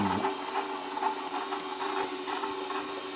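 An electric stand mixer kneads Detroit-style pizza dough made with bread flour, giving a steady, close motor whir with faint rhythmic thumps as the dough turns, running alone without talk.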